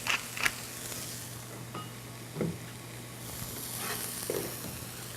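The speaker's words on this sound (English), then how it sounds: "So the vegetable is sizzling." Vegetables sizzling in a pan, seasoned with salt and pepper, a quiet steady frying hiss with a few brief scrapes and clicks of stirring, no voices.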